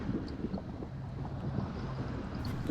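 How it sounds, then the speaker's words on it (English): Steady wind buffeting a microphone while cycling on an exposed, very windy road during a group ride, a continuous low roar with no talk. "So this area here, this side is very windy, it's very exposed."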